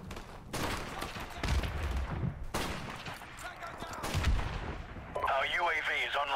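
In the video game Modern Warfare Remastered, a grenade blast and several heavy bursts of gunfire boom loudly in separated volleys, then a warbling electronic tone rises at the end.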